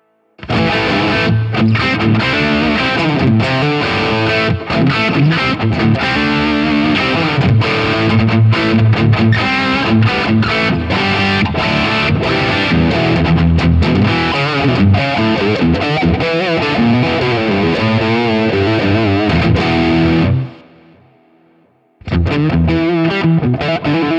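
A Gibson SG through a Fox treble booster plays distorted with a bright, cutting treble edge, continuously and loudly, stops abruptly for a moment near the end, then resumes.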